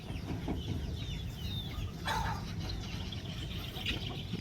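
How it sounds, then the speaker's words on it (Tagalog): Several chickens cluck and chirp softly at a farm while waiting for food, with short calls scattered over a low background murmur. "Ito yung mga manok natin"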